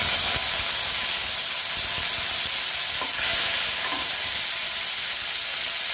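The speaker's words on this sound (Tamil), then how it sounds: "கருவேப்பிலை சேர்த்துக்கிறேன்." Mustard seeds and curry leaves frying in hot oil for a Tamil curry tempering, a steady loud sizzle with bright hissing spatter and a few sharper pops, close up with no talking.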